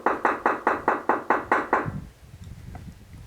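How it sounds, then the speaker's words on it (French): Someone knocks on a door in a hospital, eight sharp evenly spaced raps in quick succession, loud and close, followed by quieter rustling and room noise. "je vais toquer"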